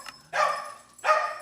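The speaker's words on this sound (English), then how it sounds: "My dog is going crazy right now." A dog barks excitedly indoors, two loud separate barks about a second apart with a faint yip before them, close to the microphone, no talking.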